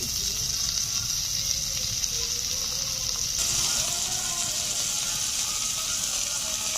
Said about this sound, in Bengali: এখন ভেজে রাখা চিংড়ি মাছগুলো দিয়ে দিচ্ছি।